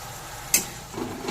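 A spoon scrapes through spices and onions in a pan, giving one sharp clink and a soft sizzle underneath, quiet and close.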